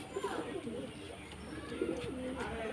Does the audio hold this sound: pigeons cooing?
yes